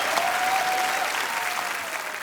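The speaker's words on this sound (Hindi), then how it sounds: "आप सबकी जोरदार तालियों के बीच इनवाइट करना चाहूंगा the very handsome, very talented Ritesh Deshmukh" A studio audience at a comedy talk show claps steadily and loudly, a dense even wash of applause that fades slightly toward the end.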